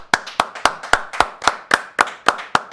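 A short clap sound effect on a sports talk show: about eleven sharp, evenly spaced claps over under three seconds, close and dry with no crowd behind them, more like a single pair of hands than a full round of applause.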